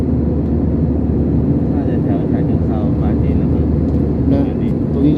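Steady low roar of an airliner cruising in flight, heard from inside the passenger cabin, a constant dense drone with faint voices over it.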